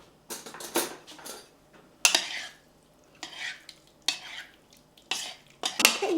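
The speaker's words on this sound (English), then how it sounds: "And give that a stir." Extra firm tofu being stirred with marinade in a bowl, bursts of scraping and clinking utensil strokes repeating irregularly with short pauses between, close and moderately loud, with no voices.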